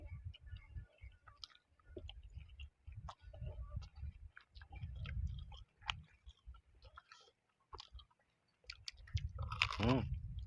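Someone chews grilled liver at a Thai meal, with the soft wet mashing and crunchy clicks coming close and up front in a steady rhythm, and a brief louder burst near the end.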